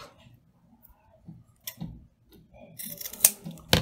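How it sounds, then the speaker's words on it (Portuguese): Scissors snipping a yarn end while making a pompom flower, a few quiet crisp cuts that grow sharper and louder toward the end, with soft handling noises between. "Vou cortar essa pontinha aqui que ficou maior."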